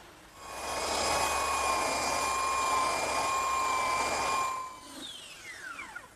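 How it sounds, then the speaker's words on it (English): A small belt sander whines loudly and steadily on the edges of a wooden table for several seconds, then winds down and falls quiet. "I like to use a slightly smaller belt sander to do these edges because it's easier to hold"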